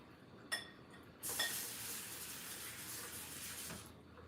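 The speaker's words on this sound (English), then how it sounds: "You got to make sure you wash this cilantro really good." Fresh cilantro is rinsed under running tap water at a kitchen sink while making salsa. A sharp clink comes first, then a steady faint rush of water runs for about two and a half seconds and stops.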